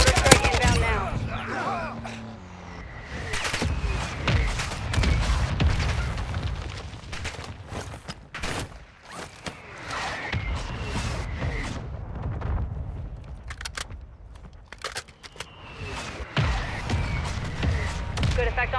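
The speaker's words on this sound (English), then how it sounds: "Mortar strike inbound now." Repeated mortar strike explosions and booming impacts in Call of Duty: Modern Warfare 2, loud broadband blasts arriving in bursts over several seconds, mixed with game radio voices and battlefield noise.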